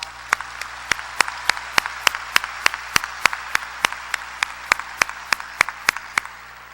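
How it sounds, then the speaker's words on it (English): Applause at a university convocation comes as a steady, evenly spaced series of sharp, distinct claps, loud and close, keeping an even rhythm throughout. "could you join me in giving him some applause?"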